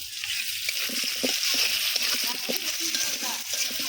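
Onions sizzling and frying in a pan after duck eggs, a steady, close, hissing crackle with light stirring scrapes throughout.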